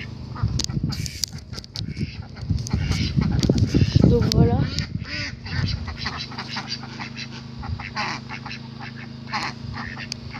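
Several banded ducks at a breeding farm quack and honk loudly nearby in an overlapping burst, while a person speaks briefly over them; calls continue more sparsely afterward.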